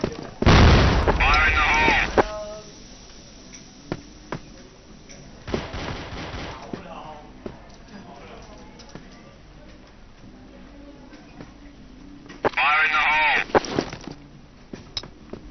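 A grenade blast in the shooter game Đột Kích during a bomb-planting round: a loud, close boom opens the stretch, with further booming, crackling bursts near the middle and again toward the end over a low game rumble.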